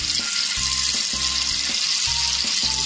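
Olive oil and fresh butter heat in a cooking pan with a steady, close sizzle and frying crackle, broken by a few soft, regular low thumps, with no voices.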